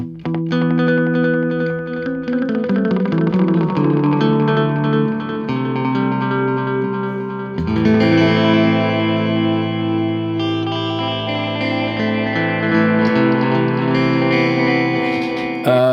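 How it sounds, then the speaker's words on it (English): Electric guitar running through a Wampler Metaverse delay pedal in ethereal mode, lush sustained chords washing into shimmering, reverberant repeats that swell and overlap, loud and continuous without any talking. "and let's go to the ethereal mode."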